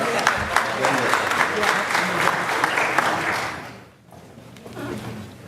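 A crowd claps steadily with some sharp louder claps standing out, then the applause fades and a few voices murmur quietly.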